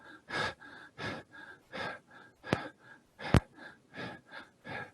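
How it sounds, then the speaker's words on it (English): Breath of fire yoga breathing, a rapid open-mouthed panting like a dog, about a dozen even, close breaths in steady rhythm, with no talking. "we're going to do a breath of fire, which is kind of moving the navel point. And it's panting like a dog."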